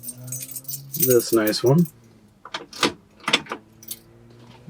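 Car keys for a 1966 Ford Mustang 289 convertible jangle in a bright metallic cluster, then a few shorter clinks follow, with someone speaking briefly over the first shake.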